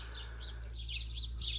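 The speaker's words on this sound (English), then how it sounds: "really cool place to just come out and listen to the birds early in the morning" Birds sing at South Llano River State Park in early morning, a string of bright, repeated chirping phrases at moderate distance over a steady low hum.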